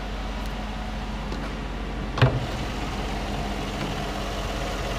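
The 5.3-liter V8 of a 2014 Chevrolet Silverado idles with a steady low rumble, close and even, with one brief clunk midway and no talk.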